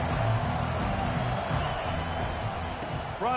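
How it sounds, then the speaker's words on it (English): A college football stadium crowd, Wisconsin versus Oklahoma, roars as a steady, dense wall of sound throughout, loud and continuous with a brief swelling toward the end, while a broadcaster talks over it. "This crowd trying to make life miserable for this offense."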